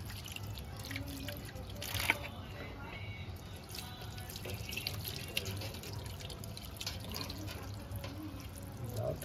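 Tap water runs steadily while goat legs are rinsed under it at a sink, a continuous close splashing trickle with a few small drips and knocks throughout.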